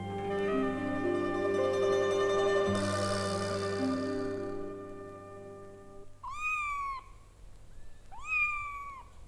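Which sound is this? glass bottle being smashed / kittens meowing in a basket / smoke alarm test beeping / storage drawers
kittens meowing in a basket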